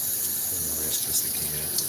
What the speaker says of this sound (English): Let me rinse this